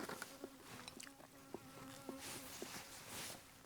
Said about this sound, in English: my cooking is attracting some bees